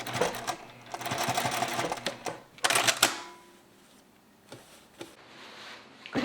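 A sewing machine stitches a rounded shirt collar in fast rattling bursts that start, pause and restart, close and clear, with quieter clicks and handling noises between runs.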